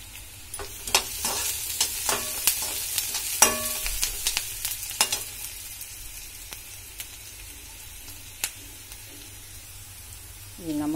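Tomatoes sizzle in a hot pan for Maggi noodles, with a spatula scraping and tapping in sharp strokes during the first half before the frying settles into a quieter, steady hiss.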